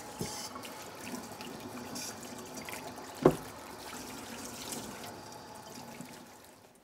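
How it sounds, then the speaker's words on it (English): Running tap water pours steadily into a sink as a fomentation pad is wetted under it, with one brief close knock partway through and the flow easing off toward the end. "To get your fomentation pad ready, take your fomentation and get it wet first."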